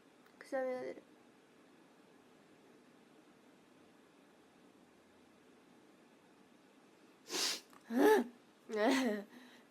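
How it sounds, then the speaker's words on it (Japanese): A young woman sneezes in short, sharp, breathy bursts, one early and a cluster of three close together near the end, with a quiet room and faint fan-like hiss between them. "くしゃみが出る。"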